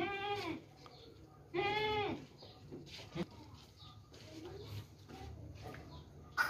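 Goats bleat at a livestock market selling dairy and sacrificial goats, two loud wavering bleats close by, with fainter animal calls and people talking in the background.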